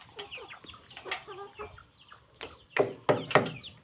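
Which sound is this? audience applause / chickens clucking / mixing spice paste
chickens clucking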